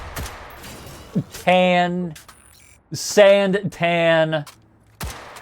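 A semi-automatic M4 rifle with Magpul furniture fires single shots in a video game: a few isolated sharp cracks spaced apart, heard between stretches of loud commentary talk.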